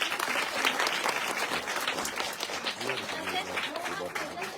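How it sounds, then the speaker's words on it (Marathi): An audience bursts into sustained applause for a guest at a gathering, many hands clapping densely and evenly close by, while a voice carries on speaking over the clapping. "टाळ्या वाजून त्यांचं"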